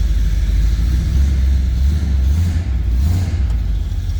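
A 1955 Ford F100 pickup idles close by, cold-started, with a loud, deep engine rumble and a low, throaty exhaust drone that swells slightly midway.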